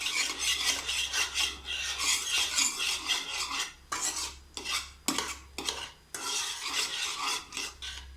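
Mutta mittai egg-and-saffron batter being stirred in a bowl, repeated scraping and rasping strokes of a utensil against the sides in an uneven rhythm, close and clear with brief pauses between strokes.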